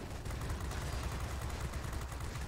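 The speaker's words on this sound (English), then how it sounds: "as you can see, the 20mm cannon is quite powerful here" Rapid 20mm cannon fire from a PZL P.38 Wilk fighter in the World of Warplanes game, a dense unbroken burst of loud gunshots that runs for the whole stretch, with no talk.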